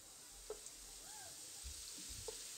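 Strips of chak-chak dough fry in hot oil, a faint, steady sizzle and crackle with a few soft bubbling pops, heard alone without talk.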